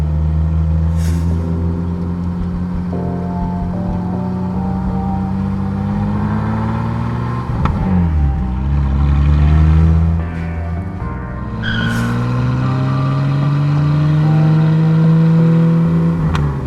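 A cruddy old BMW E30 in the Forza Horizon 4 racing game drives with its engine revving up and down in long rising and falling sweeps, loud and close, with a brief tire squeal or clunk in the middle.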